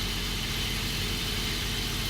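A car engine runs steadily with a deep, low intake roar. The sound is loud and unbroken for the whole stretch.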